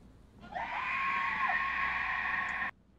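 A woman's scream in a video game, one sustained high-pitched shriek of about two seconds that starts abruptly and cuts off sharply, loud and alone over a quiet background.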